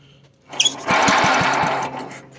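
A Sears Suburban 12 tractor engine after carburetor repair sputters briefly, then catches into a short, buzzing, high-revving run lasting about a second before dropping off, with faint knocks underneath.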